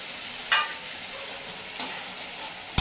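Spices frying in oil for a doi katla fish curry make a steady, close sizzle with a few brief sharper crackles or stirring scrapes rising above it.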